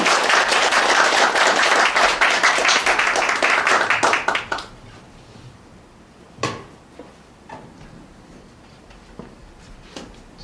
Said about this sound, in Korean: 저에게 유익한 강의를 해주신 강사님께 다시 한번 큰 박수를 부탁드립니다